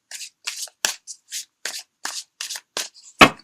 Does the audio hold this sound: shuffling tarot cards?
yes